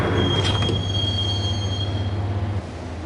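A train rides along the rails in the Max Payne video game, with a steady low rumble and a thin, high wheel squeal running throughout, close and moderately loud.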